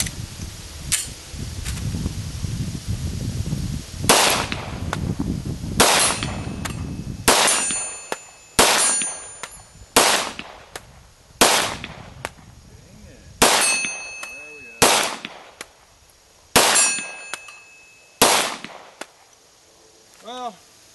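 An FN FNP-9 pistol fires a string of sharp shots at an outdoor range, each crack followed by a ringing metallic clang from steel targets, about a dozen evenly spaced impacts, with faint voices at the start.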